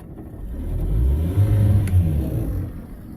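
A boat engine on a 2022 Defiance, slightly flooded during a water test, rumbles steadily after being started with the key, its deep throb swelling in the middle with a couple of revs before easing back, with no talk.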